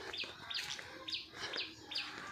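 Out in a village, a bird repeats short, faint chirps about every half second at some distance, with quiet background noise around them.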